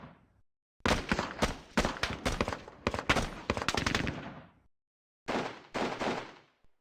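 Bursts of gunfire ring out in the Squad Battles Eagles Strike wargame: several loud rapid volleys of shots over about four seconds, a pause, then two more short clusters of reports.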